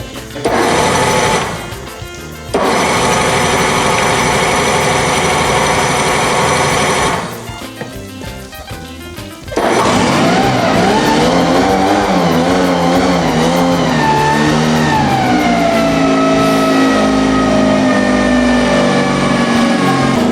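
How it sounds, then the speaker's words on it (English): A Mercury 9.9 four-stroke outboard kicker motor, cold-started with the choke out, cranks in short bursts before catching and settling into a steady, loud close-up running drone. "We're also going to fire the big motor up"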